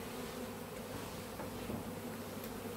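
A dense, steady hum of honey bees fills a cupboard cut-out hive, many insects buzzing together close up in a constant drone without speech.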